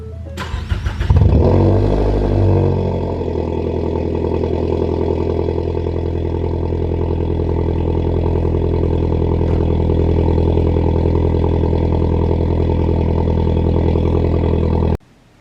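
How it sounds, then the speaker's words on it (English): Ford Focus RS fitted with a custom exhaust starts up with a sharp blip, then settles into a steady, loud, close-up rumbling drone while driving, with no talking throughout. "I finally have a car that you can hear."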